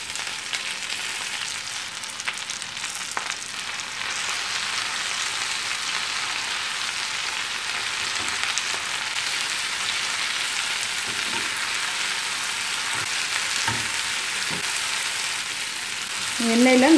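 Curry leaves and tomato sautéing in hot oil, a steady close sizzle and crackle running throughout, with a louder burst of spitting at the very end.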